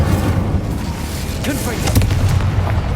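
Incendio fire spell cast during combat in Hogwarts Legacy, a muffled burst with low rumbling booms and crackle over busy battle noise and a faint game voice.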